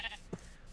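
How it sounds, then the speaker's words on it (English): A single short sheep bleat from a blocky survival video game, fairly quiet, a brief nasal call after a faint high chirp, with nothing else around it. "Oh, hello, sheep."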